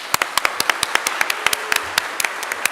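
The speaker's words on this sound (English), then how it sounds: "Let's give one final round of applause for Verity." Audience at a charity concert giving a final round of applause, thin and sparse: a handful of distinct hand claps ringing out at close range rather than a full crowd roar.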